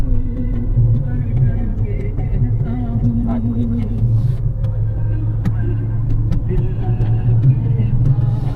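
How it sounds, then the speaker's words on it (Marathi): Car cruising on a highway between Mumbai and Kolhapur, heard from inside as a steady low engine and road rumble with constant tire roar and faint rattles, unbroken throughout. "आणि सध्या राजगाडी चालवतोय"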